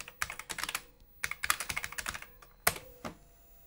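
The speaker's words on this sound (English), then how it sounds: "the keyboard is pretty good to type on. It feels almost like a modern keyboard" Keys clatter on an Amstrad CPC 464 computer keyboard in quick, close, fairly quiet bursts of typing separated by short pauses, with no voices.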